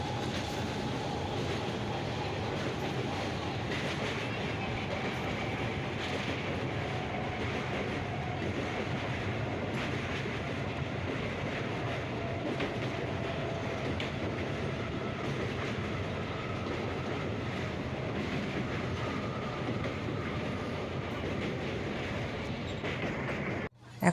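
A crowded local train crossing the Kolaghat bridge produces a continuous loud rumble with rhythmic clickety-clack of wheels on rails, steady and unbroken from start to end.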